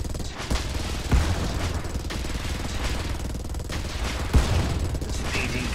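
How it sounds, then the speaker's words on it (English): Missile batteries firing up from a planet in the space strategy game Star Drive, a dense rapid barrage of repeated thuds and bursts with a couple of heavier booms over a steady rumbling background. "Going wild as the missile batteries sort of fire up from the planet."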